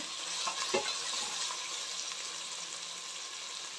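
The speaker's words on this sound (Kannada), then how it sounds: "ನೋಡಿದ್ರೆ ಎಣ್ಣೆಲಿ ಚೆನ್ನಾಗಿ ಕೆಂಪಾಗಬೇಕು ಈರುಳ್ಳಿ" Onions frying in oil in a pan as part of a fenugreek-leaf rice bath recipe, a steady soft sizzle with one faint clink near the start and no talking.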